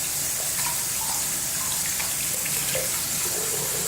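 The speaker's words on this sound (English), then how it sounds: "I'm gonna run the cold water." Cold water runs steadily from a bathroom tap into a sink during a straight-razor shave, a continuous close hiss and splash with no talking.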